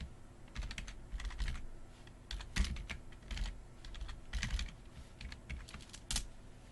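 Python code being typed on a computer keyboard, quiet irregular bursts of key clicks in short flurries with brief pauses between them, no talking.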